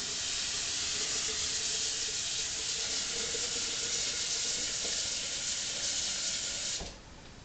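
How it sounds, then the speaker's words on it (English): Water pours in a steady, hissing stream into a container of dissolved cane sugar syrup for feeding bees, running continuously for about seven seconds before cutting off abruptly. "So now I'm going to add the other half of the water."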